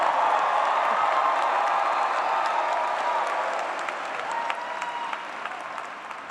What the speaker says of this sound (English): How about another loud round of applause?